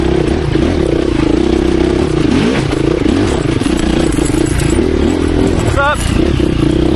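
A 2024 KTM 350 EXC-F four-stroke dirt bike rides over rough ground, its engine droning loud and close without pause, with rattling and scraping mixed in and a short voice cutting through late.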